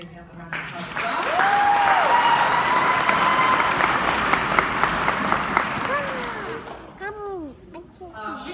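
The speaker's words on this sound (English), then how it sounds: "We can give him a round of applause." Audience at a junior high school winter band and chorus concert applauds a student accompanist, a loud sustained round of clapping that swells quickly and holds before fading, with voices and a brief tonal sound over it.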